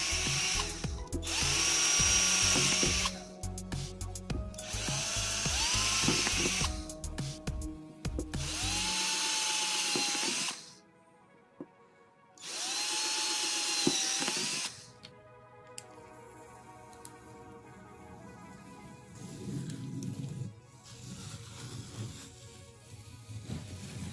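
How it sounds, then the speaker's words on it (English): A power drill bores holes for a tropical rain shower head in several separate bursts, each starting slowly and whining up in pitch before stopping, close and loud, with quiet pauses between runs. "you're going to want to start drilling your holes very slowly"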